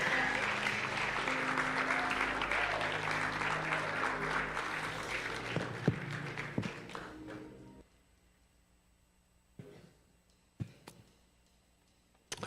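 A church congregation claps together loudly for several seconds, the applause thinning and stopping partway through, followed by a quiet room with a few scattered taps and bumps.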